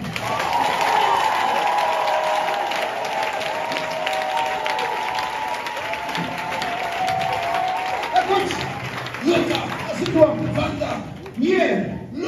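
A church congregation claps and cheers in a large, sustained burst of applause with a sung or called tone running through it, fading after about eight seconds into scattered claps while a voice speaks over it.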